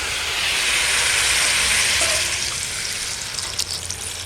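A steady, loud hiss and sizzle rises as water is poured into a hot pan of fried eggplant and kohlrabi, continuing alone without talk.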